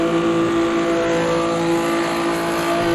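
GTB and Impala race cars in the Bathurst charity race come back onto the throttle after heavy braking, a loud, continuous engine drone with steady harmonic roar, close and sustained throughout.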